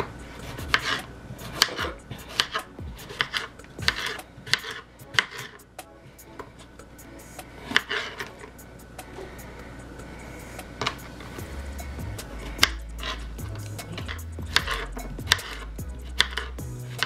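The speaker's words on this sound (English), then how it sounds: "Now you're just going to chop your cucumbers into slices." Fresh cucumbers are chopped into slices with a knife on a cutting board, giving close, sharp knocks in an uneven rhythm over a low hum, without talk.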